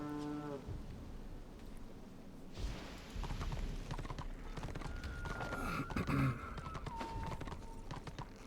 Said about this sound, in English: It seems like my horse is moving very slowly now.